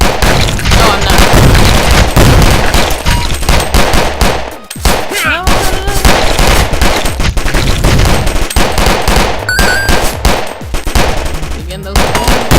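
Gunfire in the zombie shooter Zombie Grinder: loud, nearly continuous rapid machine-gun-like bursts and booms dense with game effects, with a short dip in the middle.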